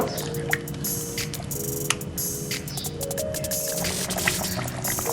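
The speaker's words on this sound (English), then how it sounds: "I'm gonna add a next cup of water because we need a lot of sauce" Water poured from a cup into a pot of Jamaican brown stewed chicken, a steady liquid splashing and dripping running throughout with soft wet squishes, close and fairly loud, with no talking.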